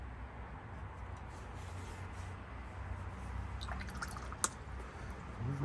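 A paintbrush being rinsed in a jar of water while painting a watercolor wash: quiet, soft swishing and dripping with a single small clink near the end.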